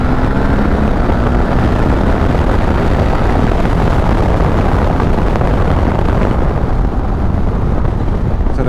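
A Husqvarna Norden 901 motorcycle engine pulls hard under acceleration, a loud, sustained roar with wind rush throughout and no break.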